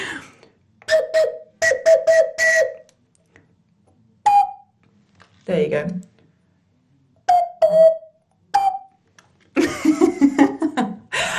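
Short, breathy whistle-like notes played in brief phrases, with pauses between, and a few spoken words and some laughter-like sounds toward the end.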